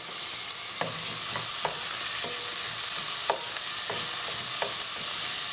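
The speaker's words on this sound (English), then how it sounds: "Love that sizzle of onion." Onions sizzle steadily in a hot pan with ginger and chili, a bright continuous hiss broken by occasional sharp clicks of a utensil stirring.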